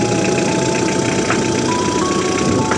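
A Kia Bongo 3 truck's 2.5-litre D4CB turbo-intercooled diesel engine runs at a steady idle, a loud continuous rumble with a faint whine and no one speaking over it.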